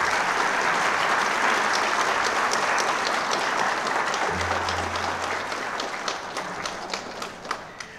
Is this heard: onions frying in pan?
no